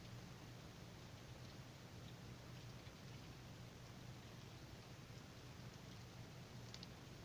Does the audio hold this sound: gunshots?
no